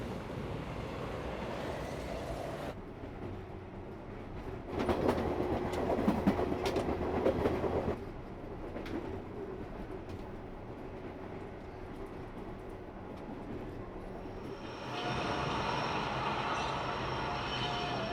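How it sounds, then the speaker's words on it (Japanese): Commuter train arriving at a platform of a Japanese railway station in snowy weather, wheels rumbling and clattering steadily, growing louder midway, with brief squeals and hiss near the end. "8番線足利前橋方面高崎行き上り電車が参ります"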